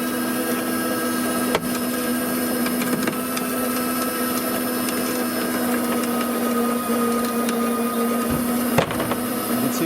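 A Sea-Doo Switch JetDock roller motor pulling a boat off the dock gives a steady mechanical hum with a constant low whine throughout, with a couple of faint clicks; no talking.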